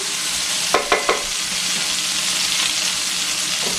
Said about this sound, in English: I'm going to put a pinch of sugar in. Stir that around.